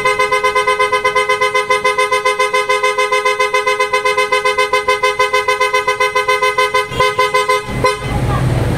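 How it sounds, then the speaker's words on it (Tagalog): Rapid pulsing blasts of an OTO Style PIAA car horn fitted to a Toyota Raize, a long rhythmic run of bright tooting pulses, close and loud, ending in a short burst of noise. "pakinggan natin yung tunog ng auto style horn natin"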